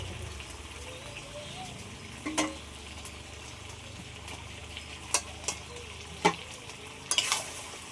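Chicken meat, country chicken, frying and being stirred in a pan, a steady low sizzle with scattered sharp clinks and scrapes of the spoon against the pan, close and fairly quiet.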